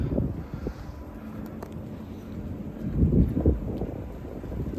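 Gusty wind buffets the microphone outdoors near pigeons on grass, a low rumbling roar that swells and eases, strongest in a burst near the end.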